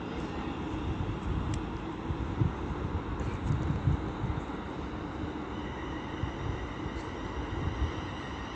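A cross-country train rumbling into Stoke-on-Trent station on the West Coast Main Line, a steady low drone with some wind noise and no voices.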